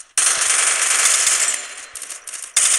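Sustained automatic machine gun fire in a shooter video game, loud and continuous for over a second before breaking into shorter bursts and then resuming.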